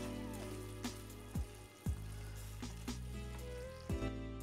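Chicken pieces with ground pepper masala fry in a pan with a soft, steady sizzle, punctuated by a few louder pops and spoon or pan knocks, heard close and without talk.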